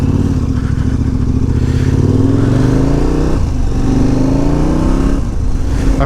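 KTM 1290 Super Adventure R motorcycle ridden in rally mode, its engine droning loud and close with rising pitch as it accelerates through the gears, a brief dip for a shift, then pulling again.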